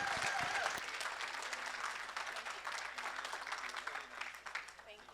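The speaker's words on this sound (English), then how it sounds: "How about a round of applause for this Minnesota auctioneer?" Audience applause for a student auctioneer from Minnesota at a college of auctioneering student auction, steady dense clapping throughout with some voices mixed in, fading slightly toward the end.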